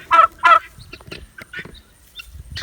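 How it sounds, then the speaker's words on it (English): Turkeys close by give two loud rattling gobbles at the start. Softer clucks and bird murmurs follow, with no speech. "My turkeys are down here."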